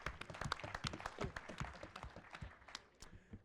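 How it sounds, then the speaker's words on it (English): An audience at a PHP conference Jeopardy-style game applauds, with many quick overlapping claps, fairly faint and distant, that taper off toward the end. "Round of applause for Katie."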